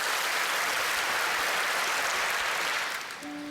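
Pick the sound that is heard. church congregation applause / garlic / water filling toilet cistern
church congregation applause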